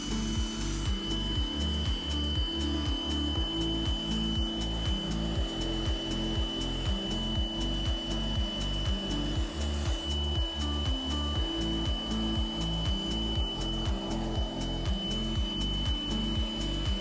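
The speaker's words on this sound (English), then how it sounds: "little leaf blower. You can put a lot of volume into the pontoons with this really quickly" A small leaf blower inflates pontoons at a remote beachfront campsite, a steady close motor drone with a pulsing, rhythmic low throb and a thin high whine running unbroken throughout, no voices.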